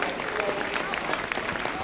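A rugby league crowd at a Challenge Cup match applauding players coming out onto the field, steady clapping and crowd noise at moderate distance, with a commentator talking over it.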